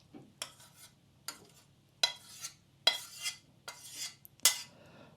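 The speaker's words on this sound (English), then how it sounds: "now we transfer the flavoured rice into a microwavable bowl" Cooked, flavoured rice for rice pudding is scraped from a pan into a microwavable bowl, giving six or so distinct clinks and scrapes of a spoon against dishware, close and fairly clear, with no talking.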